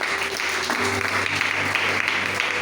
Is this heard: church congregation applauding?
yes